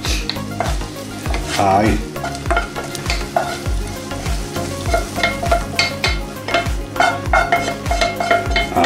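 Sautéed onion tipped into a pot for a chickpea and salt cod stew, loud continuous frying sizzle with rhythmic scraping and stirring of a utensil against the pot, close up, with a brief spoken word.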